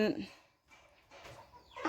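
Chickens clucking at a field hut in a rural Thai farm setting, a few short bursts near the start and end with a quieter gap between, with speech present.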